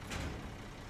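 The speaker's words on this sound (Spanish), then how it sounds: "vamos a pegar un frenazo para que los troncos se vayan hacia adelante." Air brakes hiss as a heavy logging truck with a loaded trailer brakes hard in the SnowRunner video game, a short, loud burst of hissing over a low engine rumble with no one speaking.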